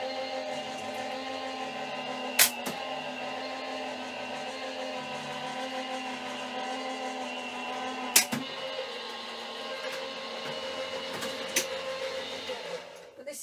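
Craft cutting machine cutting a paper card design, a steady low motor whir running throughout with a few sharp clicks and taps near the start, middle and end.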